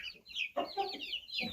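Ten-day-old incubator-hatched chicks cluck and cheep in short bursts, soft and close, with a few quick calls overlapping one another.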